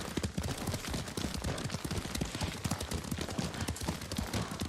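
Horse hoofbeats while riding in the video game Ghost of Tsushima, a rapid, continuous galloping clatter of hooves, close and steady for the whole stretch, with no speech over it.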